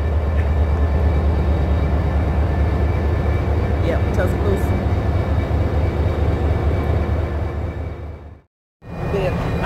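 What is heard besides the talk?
train station ambience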